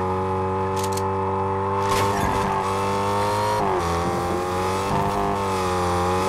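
A car engine drones loudly and continuously in Fortnite while drifting, its pitch rising and dipping with revs, tire squeal mixed in throughout.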